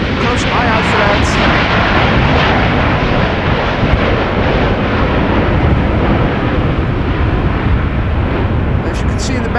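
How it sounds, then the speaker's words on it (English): A heavy jet airliner takes off at Amsterdam Schiphol Airport in breezy post-storm weather, its engines roaring loud and unbroken for about ten seconds, with broadband rumble and wind noise heard from outdoors. "If heavies take off to the east, they will probably take off from the threshold"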